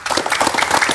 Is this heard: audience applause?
yes